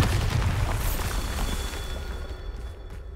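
A Bombarda blasting spell going off in a video game, a loud, rumbling explosion with a heavy low boom that rolls on and slowly fades over a few seconds.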